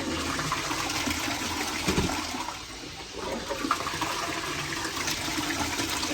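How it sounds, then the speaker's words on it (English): A toilet flushes in a newly built property, a steady rushing gush of water with a brief surge partway through, running continuously at close range with no talk over it. "Let's test this toilet now. Does it flush properly?"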